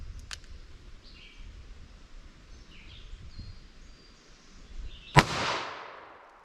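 A single loud, sharp crack from a .22 Magnum (.22 WMR) Ruger LCR revolver, followed by a brief ringing decay. A fainter snap comes earlier, with soft outdoor rustling and distant bird chirps in between.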